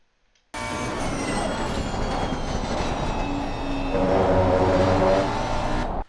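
Race car at Silverstone driven on track, engine note loud and steady with a couple of throttle blips and a rise in intensity toward the end, heard from onboard without talk.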